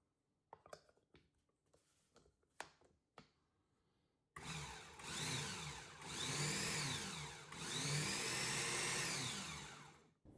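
Food processor whirring loudly as it mixes sourdough discard cracker dough, starting abruptly after a few sparse clicks and knocks and running steadily with a rising and falling motor pitch.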